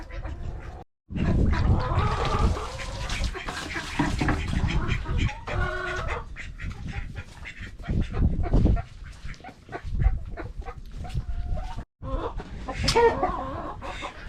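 Mandarin ducks and other fowl being fed exotic waterfowl feed call out in a busy mix of quacks, clucks and squawks, with bursts of loud calling and brief pauses across the scene.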